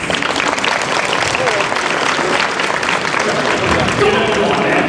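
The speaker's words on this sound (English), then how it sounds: "we were all applauding now" Convention panel audience applauding, a loud continuous wash of many hands clapping close by, sustained without pause.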